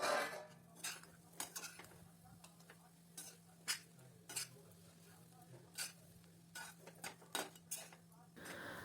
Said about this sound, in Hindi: गैस की फ्लेम धीमी रख के हमें ये चलाते रहना है।